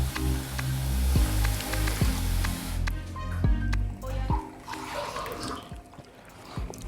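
Homemade plain yogurt is stirred with wet squishing, dripping and gurgling sounds. A low hum runs under it, and softer liquid sloshing comes near the end.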